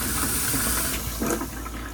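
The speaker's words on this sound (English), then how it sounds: "flushing the toilet." A toilet in a Jayco camper being flushed during de-winterizing, a short burst of rushing, gurgling water that stays steady and fairly close for about two seconds.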